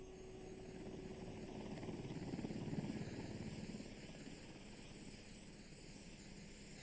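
A helicopter on an offshore rig helideck, a steady droning rotor and engine roar that swells slightly in the middle and then holds, heard at a moderate distance with constant high whine and no talking.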